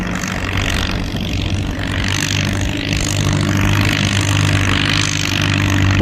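A Ford 861 tractor with a straight pipe, pulling a two-bottom plow at a plow day, gives off a loud, steady, throaty engine drone that holds close and continuous with no talk.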